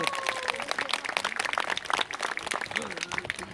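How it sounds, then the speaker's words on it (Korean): An audience at a traditional Korean martial arts demonstration claps in dense, continuous applause, with a voice heard briefly over the clapping. "박수 부탁드립니다."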